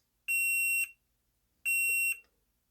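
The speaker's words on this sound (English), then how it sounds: "I'm going to check for continuity while I push the button" Multimeter giving continuity beeps while the footswitch of an Ibanez Soundtank phaser pedal is pressed, two sharp, loud, steady high tones each about half a second long, separated by a quiet gap with a faint click.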